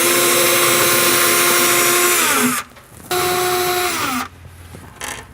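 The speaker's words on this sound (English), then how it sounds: "from here you can drill in place." A power drill runs loudly at high speed drilling into a cabinet, winds down, then spins up again briefly before stopping, followed by a short final burst.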